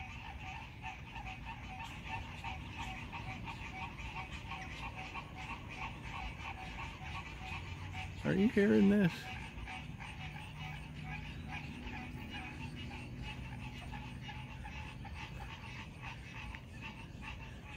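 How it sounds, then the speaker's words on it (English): Many frogs croaking on a summer night in Mississippi, a dense continuous chorus of chirps and trills at a distance, with one brief nearer call and a short question spoken over it. "hearing all of these frogs being happy in the summertime"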